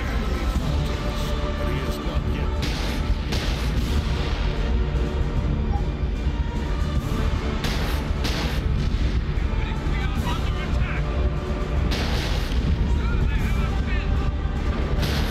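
Turrets firing and being blown up in a Warhammer 40k game match, a continuous barrage of booms and blasts under a commentator talking in Korean.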